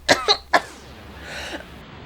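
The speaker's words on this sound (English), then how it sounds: "I'm really coughing." Three sharp, close coughs in quick succession, followed by a faint raspy breath as the fit subsides, from a person playing Shadow Hearts: The Fall of Yamaraja.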